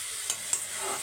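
Ground shallots, garlic and dried chillies sauté in a pan with a steady bright hiss of frying and two quick stirring scrapes close together in one brief moment.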